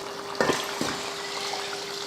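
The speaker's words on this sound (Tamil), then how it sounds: "அதில் தான் தண்ணி சேர்த்துக்கிறேன்." Water poured from a cup into a pot of Ambur biryani with rice and chicken: two quick splashing pours in close succession, close and fairly quiet, followed by a faint steady background hum.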